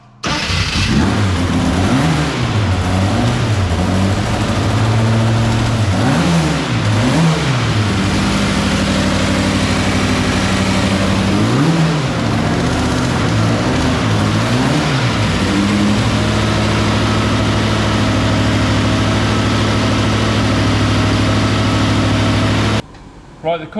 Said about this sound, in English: start the car up because there's no filler for this radiator